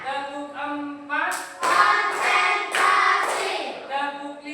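A class chants a counting clap routine in unison, with a few sharp group hand claps landing in loud bursts between the chanted lines.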